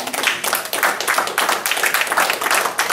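A neighborhood watch meeting crowd giving a round of applause, a moderately sized group clapping steadily and fairly close for a few seconds.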